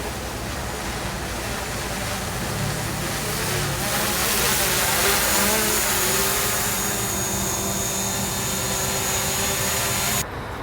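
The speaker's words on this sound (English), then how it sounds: "So I'm lowering the drone right now." Steady broadband whir of a drone's propellers as it is lowered, a continuous airy buzz holding level throughout with faint tonal hum beneath.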